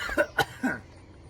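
A man coughs and clears his throat three times in quick succession, close and fairly loud, each burst short and harsh with brief pauses between, ending in quiet.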